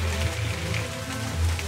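Tropical rain pattering on palm leaves on an island, a steady, dense hiss of drops that stays fairly loud and even throughout the short stretch, with no voices.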